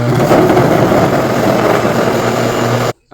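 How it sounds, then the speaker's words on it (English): A blender whirs steadily and loudly as it blends ginger with filtered water, a constant motor drone that cuts off abruptly near the end. "now I'm going to take my ginger out and put some filtered water in and blend that up"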